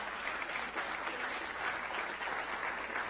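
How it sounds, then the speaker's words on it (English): Audience applause for performers at the August Antics 2018 event, a dense, steady patter of many hands clapping at moderate distance, continuous for the whole few seconds with no voices standing out. "special round of applause for those two one more time"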